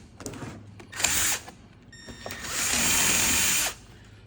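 Two bursts of a power drill spinning up close, its bit used sideways to widen a slot for a Miata steering wheel install, a short one then a longer steady whir, with handling clatter in between.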